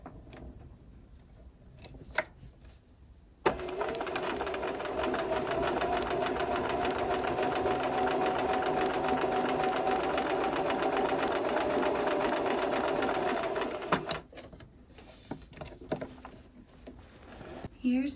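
A home sewing machine runs a zigzag stitch at a slightly smaller stitch width, whirring steadily with a fast ticking rhythm for about ten seconds. Quiet handling sounds come before and after.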